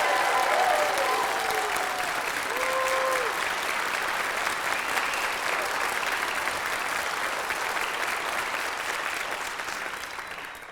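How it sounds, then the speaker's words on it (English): An awards-ceremony audience at a teaching excellence event claps in a loud, dense, sustained ovation that fades slightly toward the end, with faint tonal whistles or cheers early on. "You guys are very practiced at this clapping business."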